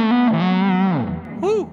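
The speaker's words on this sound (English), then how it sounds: "just realized it sounds like that because I turned on a fuzz, not a tube screamer" An electric guitar rings out through an amplifier with a fuzz pedal engaged, a thick, buzzy sustained note that bends downward and then a short wobbling phrase, loud and up close with no voice over it.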